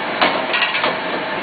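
A gold amalgamation machine runs with a steady, loud mechanical rumble and a few hollow knocks and clunks scattered through it.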